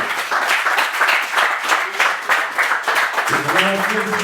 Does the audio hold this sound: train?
no